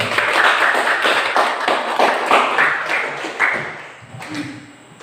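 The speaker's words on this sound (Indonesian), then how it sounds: "Tepuk tangan dulu." A group of teachers claps hands together on cue at an anti-corruption outreach session, a dense, steady burst of many palms lasting several seconds before tapering off near the end.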